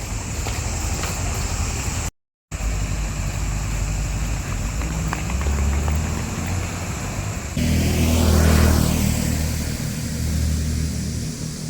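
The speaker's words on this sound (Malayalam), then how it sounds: "ഇവിടുത്തെ നോർമലായിട്ടുള്ള പബ്ലിക് ട്രാൻസ്പോർട്ട് ബസ്സാണ്" An ordinary Sri Lankan public transport bus at night in Sigiriya, its engine droning steadily close by, then swelling louder and rougher as it revs or passes; no voices.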